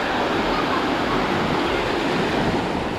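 Sea waves wash onto a beach at Dzhemete, Anapa, a steady close roar of surf filling the whole stretch with broadband rushing and no breaks, alone without voices.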